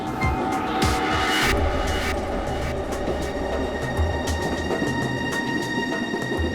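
A train rumbles along steadily, with a low rolling drone, a few brief squeals and clicks of the wheels on the rails, heard from inside.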